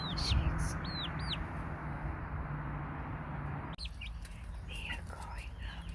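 A hen being calmed before laying her first egg gives soft, close clucks and chirpy calls, mostly near the start, under steady whispering and breathing.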